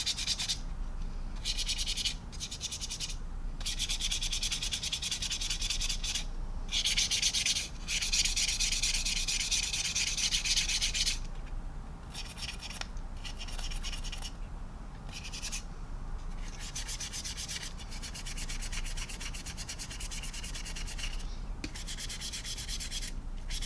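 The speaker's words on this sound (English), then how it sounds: "come back with my brush, blend." Dry brush rubbed and scrubbed across the flap of a 1/48 Minibase SU-33 model kit to blend weathering, steady close scratchy strokes with brief pauses and no talk.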